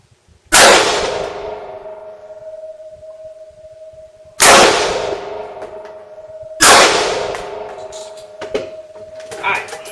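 Three sharp, loud AR-15 rifle shots on an outdoor range, fired at a target about 15 yards away, spaced several seconds apart, each with a quick decaying echo and faint ringing between them.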